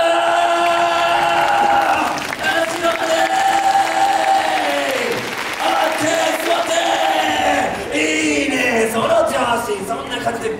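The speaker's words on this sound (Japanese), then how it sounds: "前から後ろに向かって拍手ウェーブ開始。" A theater audience at the Universal Studios Japan monster show claps in a rolling wave from front to back, building into a dense, loud, continuous roar of applause and cheering under harmonic shouts and music-like tones.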